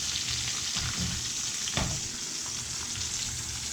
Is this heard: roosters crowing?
no